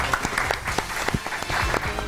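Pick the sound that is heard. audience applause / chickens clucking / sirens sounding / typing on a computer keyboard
audience applause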